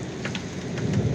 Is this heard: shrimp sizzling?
no